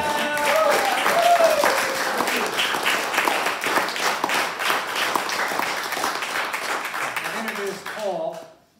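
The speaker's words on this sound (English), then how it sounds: "Applause for all of you guys" An audience at a hiking society talk applauding, with brisk, dense clapping that stays strong for several seconds before tapering off, with a few voices emerging as it ends.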